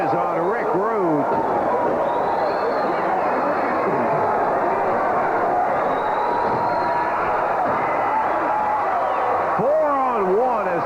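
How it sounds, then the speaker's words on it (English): A wrestling arena crowd at a Memphis match roars and hollers in a continuous loud wash, while an announcer talks over it throughout. "I hear the crowd hollering"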